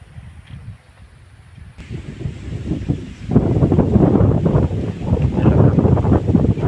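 Wind blowing over a raft beside the Mekong river, buffeting the microphone. The rush starts low, then swells into a loud, steady roar with faint lapping in the background and no speech.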